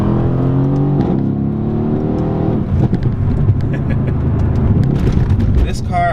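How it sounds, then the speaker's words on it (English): A Mercedes C63s AMG Coupe accelerates through the gears, its engine note climbing steadily and then breaking off into crackling exhaust pops on the upshift, heard from up close with faint background noise. "you upshift, it makes a really nice sound. yeah, the pops are really cool."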